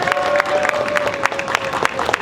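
Crowd at a Florida pinball and retro video game event clapping and cheering for an artist, dense scattered hand claps with sharp bursts, moderately distant.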